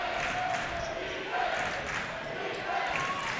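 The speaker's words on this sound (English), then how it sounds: "Malcolm crowd getting loud with the defense chant" A home crowd at a girls basketball championship game chants defense in a loud, rhythmic wash of voices that fills the gym, with a commentator talking over it.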